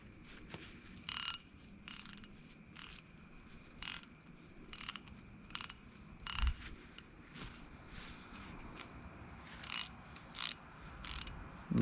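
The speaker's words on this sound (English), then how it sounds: "Got the new ratcheting mechanism in this guy." Rebuilt SK 1/2-inch drive ratchet clicking in short bursts of sharp metallic pawl ticks, spaced irregularly at close range in a quiet workshop.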